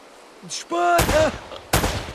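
Two loud, sharp gunshots crack out close together in the video game Uncharted: Drake's Fortune, following a brief voiced sound and a low rumble in the game.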